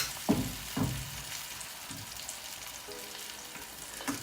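Tomato frying in a pan for a Nigerian fried egg, a soft continuous sizzle with a few sharp clanks of a fork pressing it down near the start.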